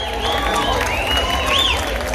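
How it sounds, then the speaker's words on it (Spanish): A concert crowd applauds an orchestra at an open-air anniversary show, brief and moderately loud, with voices and a cheer rising over the clapping. "un aplauso a la orquesta de mi sobrino Giancarlo Camuña"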